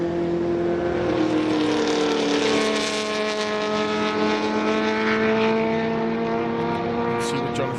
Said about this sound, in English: Porsche 917